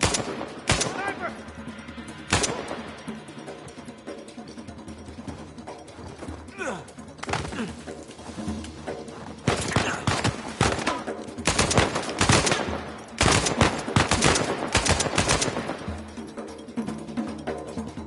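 Sniper and other gunfire in the video game Uncharted 4: repeated sharp cracks and bursts in irregular clusters, some loud and close, over a steady game background with voices.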